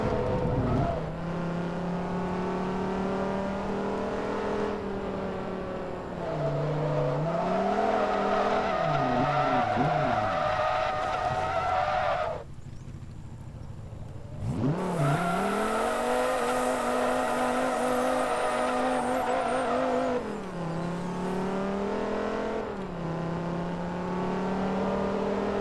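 A Viper race car in Forza Motorsport 2 drives with a loud, sustained engine drone, its pitch rising and falling through shifts, with a brief skid and a drop in engine noise midway.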